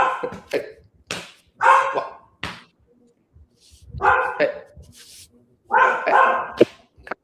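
Dog barking indoors in a series of loud, close barks and yips with short pauses between them, mixed with someone talking.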